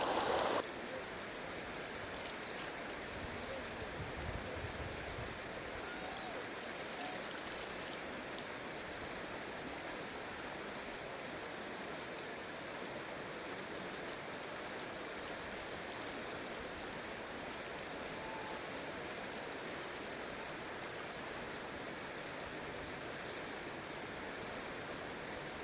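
Water in a stream flows over rocks and clay in a steady, continuous rush, fairly close and unbroken, with no voices over it.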